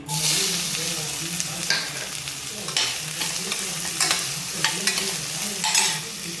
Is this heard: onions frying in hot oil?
yes